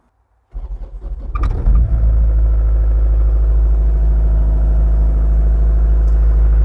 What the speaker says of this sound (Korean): 시동을 걸고 시운전도 해보겠습니다.